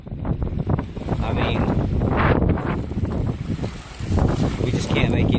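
Strong wind buffets a kayak on a lake at Land Between the Lakes, Kentucky, a steady roaring rush against the microphone with gusts, while a person talks over it.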